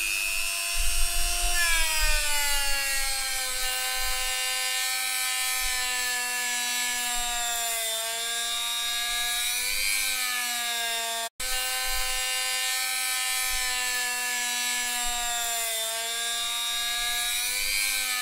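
Electric polishing tool buffing the body of a Fender Telecaster guitar, a steady high-pitched motor whine with a slowly shifting pitch that runs continuously throughout, close and alone.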